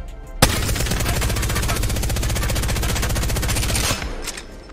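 Sustained rapid automatic fire from a Devotion LMG in Apex Legends, a dense unbroken burst lasting several seconds, loud and close, with no talk over it.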